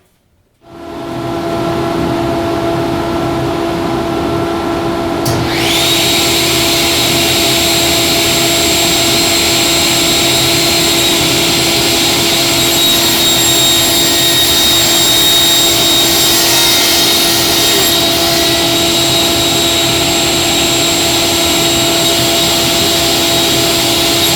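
A loud table saw spins up after a brief quiet start and keeps running steadily with a constant whine and broadband roar while cutting a long, narrow wooden wedge.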